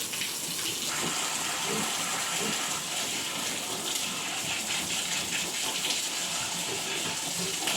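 Water gushes steadily from a hose at a backyard pig farm, a continuous, close splashing rush that holds at an even level from start to finish.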